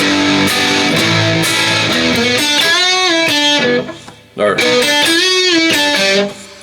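A distorted electric guitar plays a short filler riff from a song, quick chord stabs and bends, loud and close, with a brief pause before it starts again.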